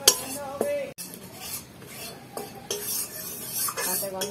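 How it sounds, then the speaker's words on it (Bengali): Gram flour roasting over low heat in a pan, with spoon stirring and scraping against the metal, soft clinks and a light sizzle in the background, alone and fairly close. "এখানে একটু বেসন নিয়ে নিয়েছি 2 চামচের মতো, এটাকে একটুখানি রোস্ট করে নেব।"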